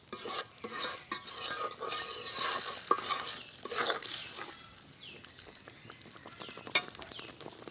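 Ridge gourd cooks in a pan with poppy seed paste and is stirred steadily. Continuous close scraping and stirring runs over a soft sizzle for several seconds.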